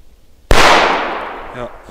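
A single loud, sharp Funke Fire Event firecracker bang goes off nearby in snowy weather, followed by a decaying echo, with a voice briefly audible at the tail.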